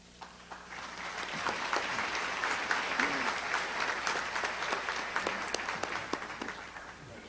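Sustained applause from a large audience fills a Naval Postgraduate School spring 2012 graduation ceremony, a dense, even wash of many hands clapping throughout, with a faint voice briefly beneath it.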